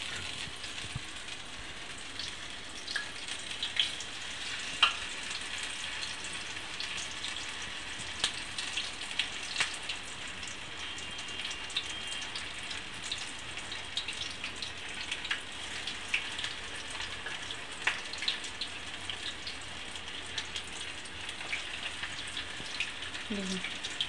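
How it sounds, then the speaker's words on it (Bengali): Chicken pakoras fry in hot oil with a continuous soft crackling sizzle, faint and even with scattered pops, heard with no speech. "এবার এই সাইডে দেখুন এক একটা করে চিকেন নিয়ে এর সাথে মিশিয়ে এবার তেলে ছেড়ে দেওয়া হচ্ছে।"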